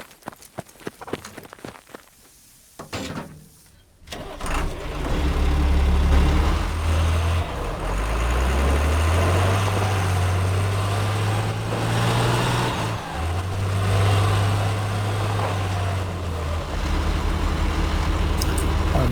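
Stryker armoured vehicle engine during army armour training, a steady, fairly smooth, higher-pitched drone that swells in loudly after a few seconds of quieter footsteps and rustling, then holds near with slight pitch shifts.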